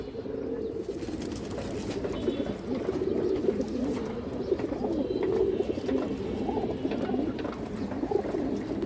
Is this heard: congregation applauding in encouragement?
no